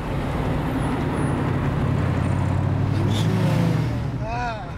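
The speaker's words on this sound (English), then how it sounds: "Now this is what all cars should sound like." High-performance Saleen Mustang car engine roaring loudly nearby with a deep rumble and a rising rev toward the end.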